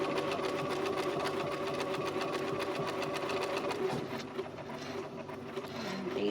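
Sewing machine stitching a zipper purse together, its motor running continuously with a steady rapid needle rhythm close up, briefly easing before carrying on.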